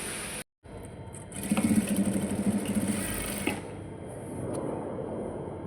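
Short, fairly faint run of a sewing machine putting a seam into a katori blouse, rising after a brief dropout and settling into a steady hum.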